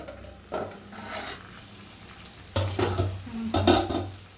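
A metal lid comes off a pot of simmering jackfruit curry, then utensils clatter and scrape against the cookware in close, moderate bursts.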